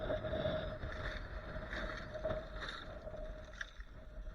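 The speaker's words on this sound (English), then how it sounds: "it's windy" Steady wind buffeting the microphone in broad rumbling gusts, with a faint constant tone running underneath throughout.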